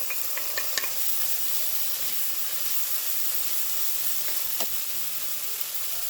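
Tomatoes go into a hot pan with garlic, a loud sizzle and hiss with a few clattering stirs and scrapes near the start and middle, close and without speech.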